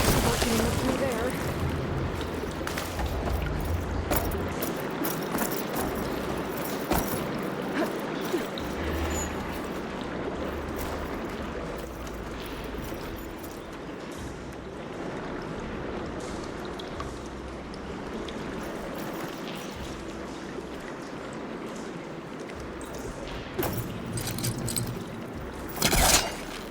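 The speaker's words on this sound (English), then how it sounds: "Sounds like the water's switched." Rushing, steady flow of water in the video game Horizon Forbidden West as a water system switches, a broad continuous wash lasting throughout with shifting low rumbles underneath.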